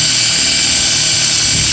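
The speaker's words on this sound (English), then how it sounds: "I'll drill a couple of holes really quick" Electric drill with a dull bit boring holes into a workbench while making chain loops by hand, a loud, steady high-pitched whine running continuously throughout, with no talk.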